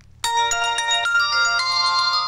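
A ringtone melody plays loudly and steadily from the speaker of an Alcatel Big Easy phone, starting abruptly after a brief quiet moment and continuing as a bright, layered tune with no talk.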